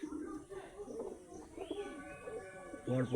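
Pigeons of Saharanpuri and Shahjahanpuri breeds murmur low coos inside a cage, soft and intermittent, while a voice talks over them near the end.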